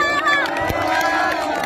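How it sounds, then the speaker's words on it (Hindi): A large outdoor crowd cheers and claps at the Tulsipur Mahotsav festival in Nepal, a loud steady roar with a voice carrying over it. "सबैले ताली बजाउनुपर्छ"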